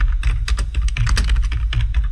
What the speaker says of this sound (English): And I'm going to type CO2 emissions by country